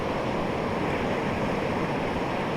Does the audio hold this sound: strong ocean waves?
yes